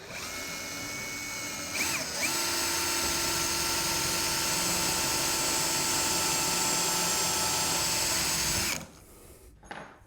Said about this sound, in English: I'll see if we can pop a 45-degree hole into the corner here